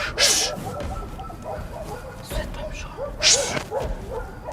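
Dogs bark and yip in a neighbourhood of Durrës near an abandoned house, two sharp bursts standing out over steady background noise and low voices.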